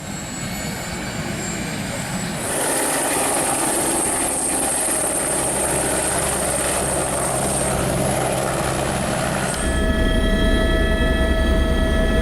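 Helicopter on a festival tourist joyride in Pollachi, its rotor and turbine drone loud and steady throughout, rising sharply as it nears and becoming a deeper roar toward the end.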